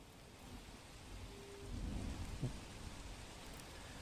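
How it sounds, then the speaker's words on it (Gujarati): Monsoon rain falls with a cool wind in Dabhoi, Vadodara, a faint steady wash with a low rumble swelling midway and a single brief knock. "ઠંડા પવન સાથે વરસાદનું આગમન થયું છે"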